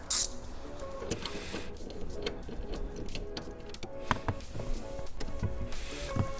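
Front seat bolts being removed inside a Lexus GX550, with close, quiet mechanical ratcheting clicks and metallic scrapes in an irregular rhythm, a few sharper knocks standing out.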